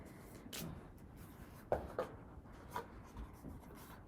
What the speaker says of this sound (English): Just shuffling, making stuff make sense.